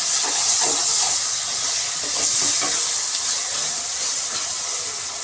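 Finely chopped onions sizzle and hiss steadily in a hot oiled pan for a stuffed eggplant pulusu, a loud continuous frying crackle with faint stirring scrapes and no talking.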